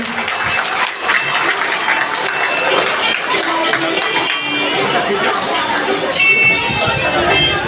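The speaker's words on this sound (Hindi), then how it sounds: "एक बार जोरदार तालियों से सभी का स्वागत करें" Loud, sustained applause from a large audience at a school's first annual function and felicitation ceremony, dense clapping filling the whole stretch with crowd chatter mixed in.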